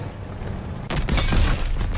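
An enemy tank is hit and destroyed in Call of Duty WW2, a sudden deep booming blast followed by a rolling, rumbling roar that stays loud and close, with no talking.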